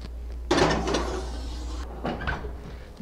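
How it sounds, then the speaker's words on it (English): An oven rack slides and a metal door clanks shut as a Cornish hen goes in, a sharp mechanical scrape followed by a second softer clunk over a low hum. "Okay guys, down in the oven it goes."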